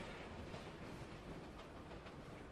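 Metro underground train running through a tunnel, a faint, steady rushing rumble with a soft rattle of the cars, continuous and distant, with no voices.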